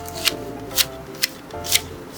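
Pruning shears snip down a small blackberry bush in a garden being cleared for sheet mulching, giving four sharp, brief cuts spaced about half a second apart, close up with no talking.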